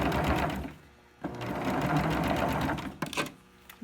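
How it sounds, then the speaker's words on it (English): A sewing machine stitches across the end of a fabric face mask, its fast steady whirring running almost continuously with a brief pause near the start and short stops toward the end. "Now all you have to do now is turn the whole thing around and go the other way, and sew the other end."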